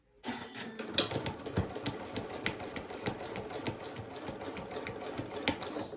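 Sewing machine running steadily as it stitches a half-inch seam along a fabric bag, its rapid needle clatter continuous and close for several seconds with no talking.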